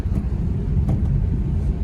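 Low, steady engine rumble of a 2024 Maruti Alto K10 driving uphill on a hill road, heard from inside the car as a continuous drone with a couple of faint knocks and no talk.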